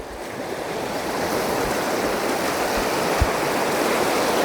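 River water in a Konkan creek rushes steadily nearby, a continuous broadband roar like surf, with faint wind buffeting and one small splash, no voices.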